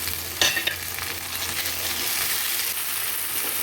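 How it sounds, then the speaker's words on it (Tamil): Turkey berries (sundakkai), washed and seeded, sauté in hot oil for a tamarind kara kulambu, giving a steady close sizzle with a couple of sharp stirring clicks early on, no voices. "சுண்டக்காய் வந்து எண்ணெயில் நல்லா வதங்கணுங்க"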